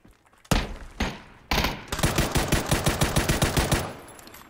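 Automatic rifle fire in PUBG: Battlegrounds, loud and close, with a couple of single heavy shots followed by a rapid, evenly spaced burst of about a dozen rounds, no talking.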